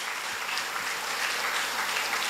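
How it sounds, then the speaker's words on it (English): An audience claps for three priests at a church silver jubilee cultural evening, a continuous, even wash of applause with a low steady hum beneath it. "Can we give a clap to all these 3 priests?"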